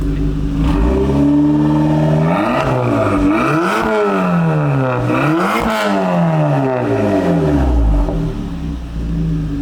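A rebuilt 2.0T engine in a Volkswagen CC running loud and close, revved up and down several times so the pitch sweeps rise and fall, with a faint clatter underneath and no talking.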